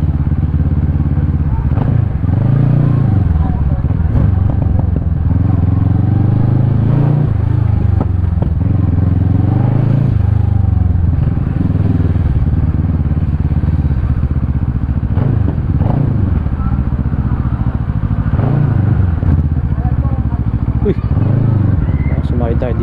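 Bristol Bobber 700 motorcycle with its stock exhaust pipe, idling and revving in rising and falling swells, loud and close, with people talking at times over the steady engine rumble.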